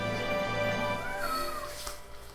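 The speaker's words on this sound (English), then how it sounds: "He didn't yell, he just quietly meowed at me." A cat in a Sonic The Hedgehog (2006) Xbox 360 game session lets out one soft, brief meow with a rising-then-falling pitch, faint beneath steady game music and background tones.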